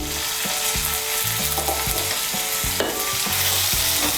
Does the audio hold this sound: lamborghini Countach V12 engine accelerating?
no